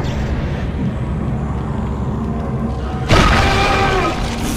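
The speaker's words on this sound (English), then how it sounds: "I was expecting it to explode, but not hit me like that." A sudden booming explosion in the sci-fi horror video game Dead Space, landing after a few seconds of low rumbling ambience and then a loud, sustained crackling blast that slowly decays, with no talk.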